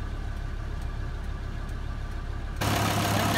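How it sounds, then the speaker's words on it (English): Kubota M125X tractor engine idling after eight hours of work with a nasty fault noise, a steady low rumble with a faint knock, then a sudden louder, harsher roar near the end. "Right now, while it's idling after 8 hours, it's still making that nasty sound."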